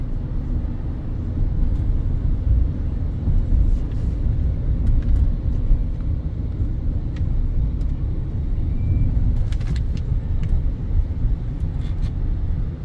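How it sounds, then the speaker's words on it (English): A 2024 GMC Sierra 3500HD Denali heavy-duty pickup truck driving, heard from inside the cab as a steady low engine and road rumble with tire hum, continuous and even, with occasional faint clicks and no talking. "Let's turn down the AC so you can kind of hear the truck a little bit better."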